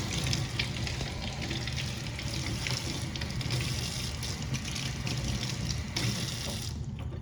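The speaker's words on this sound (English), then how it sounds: "So let's go ahead and rinse this out." Running water rinses a Medela manual breast pump part under a tap, a steady close broadband splash lasting throughout with no voice.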